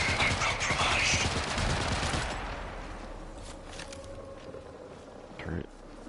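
Automated turret fire in the video game Marathon, a loud sustained burst of rapid shots that fades into a quieter rumbling tail with a short crack near the end.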